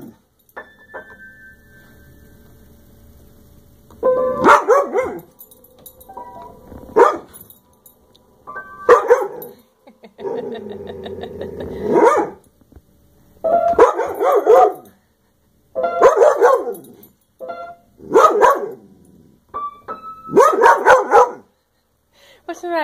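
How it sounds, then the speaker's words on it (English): A dog barks in repeated bursts at close range, with sharp yips and a few howl-like notes spaced across the stretch; a steady tone sounds early on, and there is no clear talking. "This is your dog, Amy."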